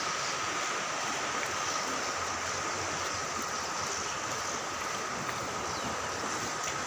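The Kagal river flows with a continuous, even wash of rushing water and broad outdoor noise at a fishing spot, steady throughout with no talk.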